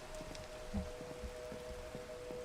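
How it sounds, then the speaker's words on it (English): Steady Minecraft rain patters over a gameplay scene, a constant soft hiss with scattered droplet ticks, faint and even throughout, with no talking. "Uh-oh, rain."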